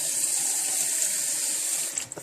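Water, about a third of a cup, pours steadily into a pot of cooking blueberries, making a continuous hissing splash that tapers off into a few last drips.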